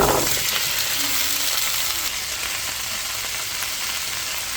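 Vegetables sizzling in a pan already used for beef mechado, a steady soft frying hiss that fades a little after the first seconds, with no talk over it.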